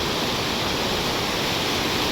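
Water rushing through a sluice gate opened only a couple of inches: a dense, loud, continuous roar of churning flow, steady and unbroken with no voices.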